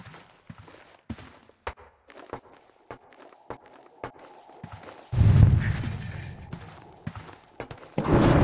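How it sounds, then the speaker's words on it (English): Sharp, isolated video game gunshot cracks from Hitman: Absolution go off at a steady pace, followed by a loud rumbling burst and a sudden heavy blast near the end. "Were those gunshots?"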